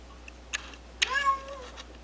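A cat meows close by with no other sound: a short chirp, then a longer, rising and falling meow.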